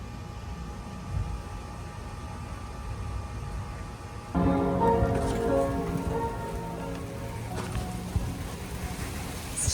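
Steady rain pours down outdoors during Hurricane Milton, a dense hiss that swells heavier partway through, with louder drops spattering close by.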